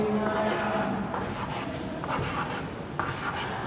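Marker or chalk strokes scratching out digits on a board during a binary-to-decimal lesson, a steady rubbing scrawl with brief pauses between strokes, close and fairly loud, with no talking.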